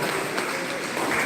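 Sustained applause from a crowd at an awards ceremony for a school competition, dense and steady throughout, fairly loud and unbroken.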